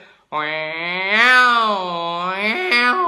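A human voice imitates two tomcats fighting in the street, a drawn-out yowl with a long wavering wail that rises and falls, loud and close, ending in a few choppy bursts.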